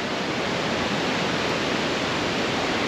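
Waterfalls pouring into the limestone pools of Semuc Champey, Guatemala make a loud, steady, broadband rushing roar that holds constant throughout, with no voices.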